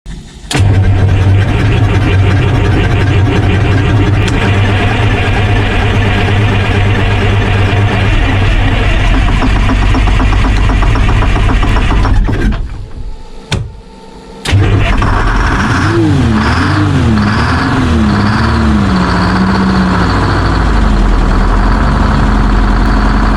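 Twin 1969 Detroit Diesel 8V71 9.3-liter V8 two-stroke marine engines on a Hatteras 45 yacht run loud and close on a cold 26°F morning, drop out briefly, then crank and fire up again into a wavering idle.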